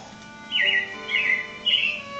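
Three bright, warbling robin chirps ring out in short bursts over a soft, steady background hum.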